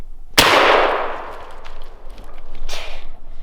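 A single sharp shotgun blast at a wild turkey gobbler on public hunting land, close and loud, ringing off with a long fading tail and a faint second crack afterward.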